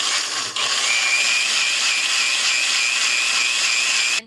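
Kitchen blender whirring steadily as it blends a homemade organic pesticide mixture with water, a loud continuous motor whine running without pause until it cuts off at the end.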